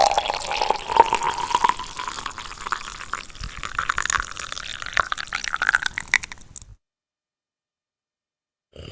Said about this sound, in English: here's some cool coffee pouring sound effects